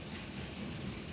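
Heavy rain pours in a strong wind during a thunderstorm with hail in southern Cianjur: a dense, steady roar of rain with a low rumble underneath, loud and continuous, no voices.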